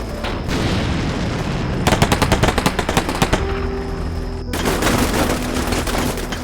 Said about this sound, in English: Garrison Company's BTR hoses the breach with its 50 cal